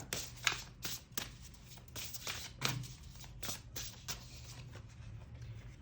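Tarot cards shuffled and drawn from a deck, a soft, close run of quick papery flicks and slaps in an irregular rhythm, faint and quiet.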